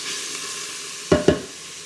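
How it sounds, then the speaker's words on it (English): Vegetables sauté in an Instant Pot with a steady hissing sizzle, broken by two quick stirring scrapes close together near the end. "keep an eye on your sautéed vegetables"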